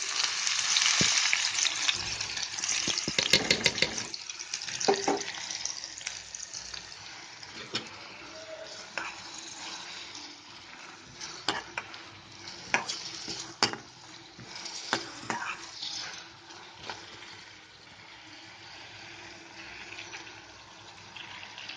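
Onions, cumin and dried red chillies fry in a pan, giving a steady soft sizzle with occasional louder crackles and stirring clinks, close and alone without talk.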